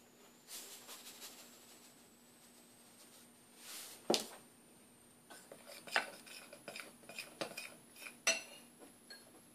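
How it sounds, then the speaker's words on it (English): Omelette batter of flour mixed in a bowl to break up lumps: a utensil scrapes and clinks against the bowl in irregular bursts, close and fairly quiet, with louder taps toward the end. "So just mix this and break lumps."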